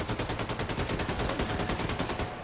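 Rapid, sustained gunfire from Wolfenstein 2 rattles nonstop at close range, dense repeated bursts filling the whole stretch with no voices over it, closer to automatic fire than single shotgun blasts.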